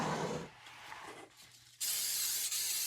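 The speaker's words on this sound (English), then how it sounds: "And I spray it with some coconut oil." Coconut oil cooking spray hisses onto a donut mold in short bursts: a quick spritz, a pause, then a longer, steadier spray close to the can.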